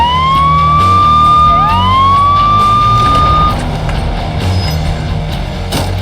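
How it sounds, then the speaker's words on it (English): A fire truck siren in Alaska wails loud and close, its rising tone sweeping up twice before cutting off midway, leaving a low engine rumble and background noise. "we're going to scare them with the siren."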